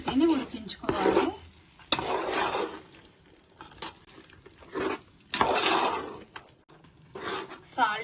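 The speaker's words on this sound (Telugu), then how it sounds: "ఉడుకున్న చికెన్లో గోంగూర కూడా కలుపుకొని స్టవ్ మీడియం ఫ్లేమ్లో పెట్టుకొని ఉడికించుకోవాలి" Chicken with gongura leaves cooks on a medium flame, heard as bursts of scraping stirring and sizzling in a pot, alternating with a person talking and quieter gaps.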